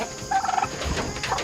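Farm turkeys give a short burst of rapid, warbling gobbles, loud and close, then settle into softer background noise, with no talking.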